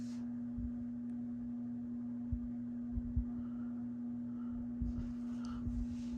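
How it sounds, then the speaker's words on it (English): Steady low electrical hum from an Encon Georgian ceiling fan running, constant and moderately faint throughout, with small soft knocks and rustles now and then. "You can definitely hear that hum now."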